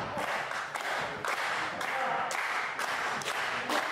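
A wrestling crowd at a DKW Space Invaders show applauds and cheers, a dense, steady roar of clapping and voices that swells in short bursts across the whole stretch.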